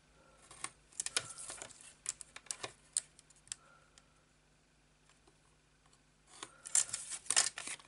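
Scissors snip the corners of a piece of paper or card, several quiet, crisp cuts in a close, quiet room, with a faster cluster of snips toward the end.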